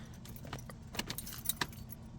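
Keys jangle softly in and around the ignition of a 2004 BMW E46, a few quick metallic clinks and taps, close and quiet, with no engine starting and no talking.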